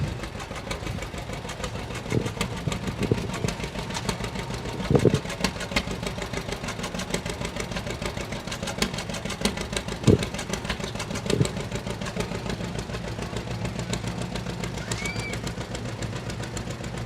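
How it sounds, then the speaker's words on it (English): A 1952 John Deere Model 60 tractor, an old two-cylinder popper, runs steadily at a lighted tractor parade, its uneven chugging beat continuing throughout with a few louder thumps and some background noise. "Listen to that old popper. John Deere Model 60 from Coneyville."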